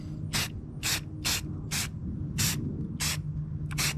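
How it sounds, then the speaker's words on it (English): A can of Rust-Oleum Glow paint sprays in seven short, evenly spaced hissing bursts as wooden mushrooms are coated, each spurt close and crisp with brief quiet gaps between. "time to paint these mushrooms, and what we're going to be using is Rust-Oleum Glow."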